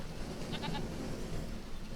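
Sheep bleating in Farming Simulator 25, a short cluster of three quick bleats around the middle, fairly faint over a steady ambient farm background with no talking.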